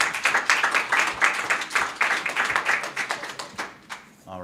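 Attendees at a city council meeting clap in a small group, individual claps distinct and rhythmic, fairly close, tapering off into a few scattered hits near the end.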